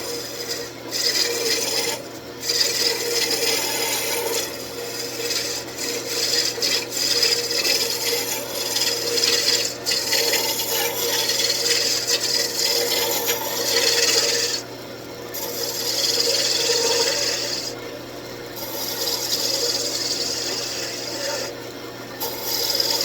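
A sharp roughing gouge cuts a wood blank spinning on a wood lathe while turning a Christmas tree ornament, producing a steady close rasping scrape with a constant motor hum beneath and brief breaks as the tool lifts.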